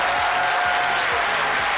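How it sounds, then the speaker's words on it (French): A studio audience on a French midday TV show applauds loudly and steadily to welcome a guest. The dense, continuous clapping fills the room. "On applaudit très fort Jean-Michel Honin."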